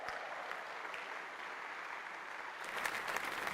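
Warm applause from a church gathering welcoming five new Mennonite congregations, a steady wash of clapping at moderate distance that swells slightly near the end, with no voices over it.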